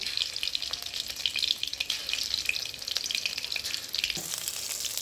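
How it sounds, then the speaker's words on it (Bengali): Fritters (bora) sizzle steadily in hot oil in a home kitchen, a continuous crackling fry at moderate level with faint clinks, heard alone without talk. "বাদবাকি বড়াগুলো আমি ভেজে নেব।"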